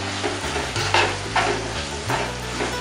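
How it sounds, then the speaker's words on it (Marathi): Tomatoes sautéing in a pan with crushed ginger, garlic and green chilli for Koli-style chicken sukka, a steady close sizzle broken by several rhythmic scraping stirs of a spoon. "टोमॅटो सॉफ्ट होईपर्यंत आपल्याला परतून घ्यायचं आहे।"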